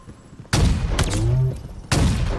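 Weapon fire in the shooter Halo Infinite: a loud burst of gunfire starts abruptly, followed by a whooshing projectile sound and a second blast, sharp and close, with a voice faintly underneath.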